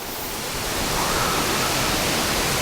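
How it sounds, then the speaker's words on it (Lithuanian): Strong wind buffets the microphone outdoors at a free parking area along the Camino de Santiago, a dense, steady roar that swells slightly and holds for the whole stretch with no voices. "Labai stiprus vėjas."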